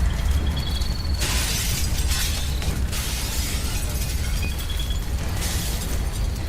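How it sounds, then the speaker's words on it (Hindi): A mansion blowing up in a sound-effect explosion: a continuous, loud, deep rumbling roar full of crackling and shattering debris, pulsing in waves without a break for the whole stretch. "हवेली धमाके से उड़ गई।"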